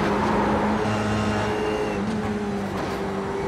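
An F3 race car engine in the iRacing sim at Mosport drones steadily at high revs, the pitch easing slightly downward as the car runs on, alone with no talk.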